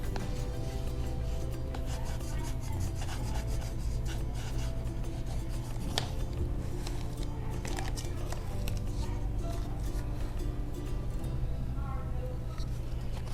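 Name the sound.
burnishing art tape to adhere it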